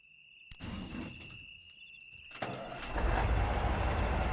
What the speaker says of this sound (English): I gotta get my fuel truck out.